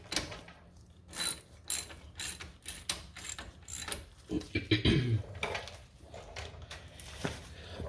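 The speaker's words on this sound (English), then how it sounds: "I'm going to reverse my 19mm ratchet, and we'll tighten these up." A 19mm ratchet clicks in quick bursts while tightening bolts on a Mazda CX9 front brake during a rotor replacement, the close metallic pawl ticks repeating in short, irregular runs.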